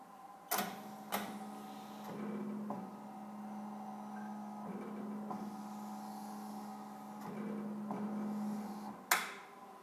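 A BAi Vision embroidery machine runs a trace of a hat pattern, giving a steady mechanical hum with a low drone and sharp clicks at the start and end of movements, recorded close in a quiet room.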